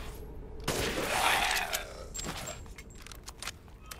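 Gunfire in the video game Resident Evil Village: a sharp burst of shots with a reverberant crash, followed by quieter scattered impacts and metallic clinks.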